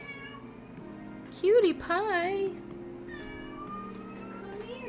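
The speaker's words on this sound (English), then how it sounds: "I don't know if you guys heard her meowing" A cat meows a few times up close, with rising and falling drawn-out cries, while a person talks softly around them.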